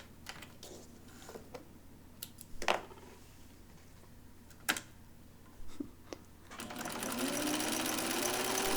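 A sewing machine, set to a long basting stitch, sews a blouse side piece to the back along a half-inch seam. Scattered clicks and handling taps come first, then the motor starts and runs in a loud, steady whir to the end.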